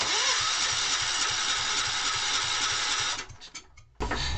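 Kohler K241S single-cylinder engine cranking and firing: a loud, rapid, rhythmic chugging runs steadily, then stumbles and sputters briefly before catching again with an abrupt burst.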